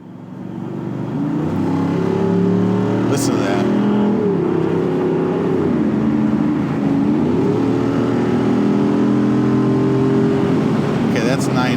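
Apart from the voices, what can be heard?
car accelerating and revving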